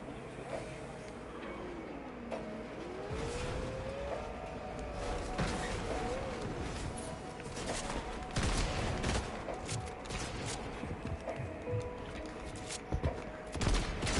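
Fortnite gunfire during a competitive match, repeated bursts of shots and scattered bangs over a busy game soundscape with a whooshing effect early on, no talk.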